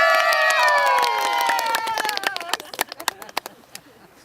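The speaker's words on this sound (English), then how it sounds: "And the crowd goes wild." A crowd cheers and whoops in celebration, rising voices sweeping together before breaking into scattered claps and shouts that thin out toward the end.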